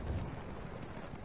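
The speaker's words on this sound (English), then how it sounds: "There's a guy here, he just got off a horse." Horse hooves clip-clopping in Battlefield 1, a steady muffled trot sitting low beneath a busy in-game wartime din, continuous and fairly faint throughout the short stretch.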